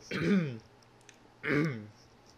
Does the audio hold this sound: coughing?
yes